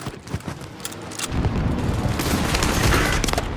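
Precision airstrike in Call of Duty: Warzone on Fortune's Keep: heavy booming explosions swell into a sustained, rumbling roar, loud and close.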